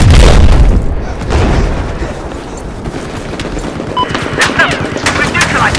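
Gunfire and booming explosions in Battlefield 4 on the Siege of Shanghai map during a conquest match, loud close bursts and shots scattered through a noisy battle, with a voice talking briefly over it.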